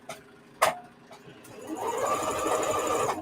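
A sewing machine stitching elastic onto a men's shirt being turned into an off-the-shoulder top: a few clicks and a thump, then the motor ramps up into a steady, close whirring run.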